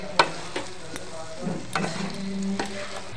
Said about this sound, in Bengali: একটুখানি নাড়িয়ে চাড়িয়ে মিলিয়ে নেব